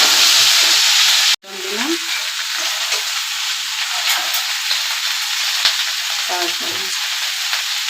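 Bhangar fish frying in a kadai, a strong steady sizzle after a brief cutoff near the start, with a few short spoken words over the crackle.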